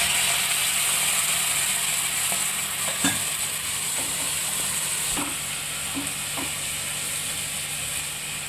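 Raw mango cooking in a tempered pan after water is added, with a steady loud sizzle and bubbling hiss and a few sharp clicks and scrapes of stirring scattered throughout.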